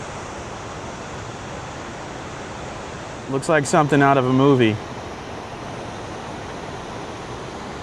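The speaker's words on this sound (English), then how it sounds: "You can still hear it roar. The power of those waterfalls and the beauty of it." Steady broadband roar of Cumberland Falls in Kentucky, a constant rushing wash of falling water filling the whole clip, with someone briefly talking over it midway.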